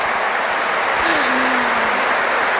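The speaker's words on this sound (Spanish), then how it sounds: "Un aplauso fuerte." Crowd applauding at a Mass in a basilica, a steady dense wash of clapping with a faint tonal glide beneath, continuous and fairly loud throughout.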